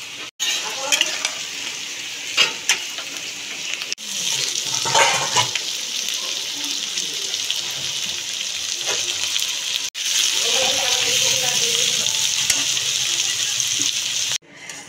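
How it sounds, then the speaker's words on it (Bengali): Carrots, beans, cashews and raisins fry in ghee and white oil in a kadai, a loud, close, continuous sizzle broken by a few sharp stirring scrapes and brief pauses. "এখন গাজর, বিনস আর কাজু কিশমিশ দিয়ে ভাজা হচ্ছে একটু ঘি দিয়ে সাদা তেলে।"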